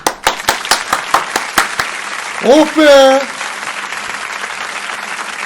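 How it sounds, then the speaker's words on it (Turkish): A man applauds himself with a short run of sharp, evenly spaced hand claps, about nine in quick succession, then stops and exclaims with relief. His voice is close and fairly loud over a quiet room. "Buraya kendi alkışımı kendim veriyorum."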